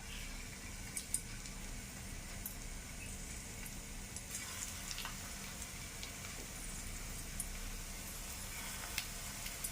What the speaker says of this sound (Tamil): எண்ணெய் வந்து நான் காய வச்சுருக்கேன் அதனால் அப்படியே எடுத்து போட போகிறேன்